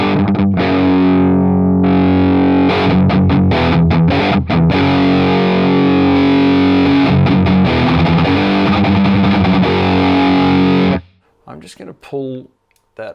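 Heavily distorted electric guitar through a Positive Grid BIAS Mini amp set to three tube stages, sustained chords and riffs played loud and continuous for about eleven seconds before cutting off to a few brief sounds.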